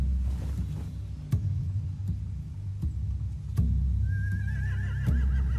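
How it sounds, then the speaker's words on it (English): Horses neigh and whinny in The Walking Dead video game, several rising cries ringing out over a low ambient bed, with a few sharp knocks punctuating the scene and no talk. "They have horses."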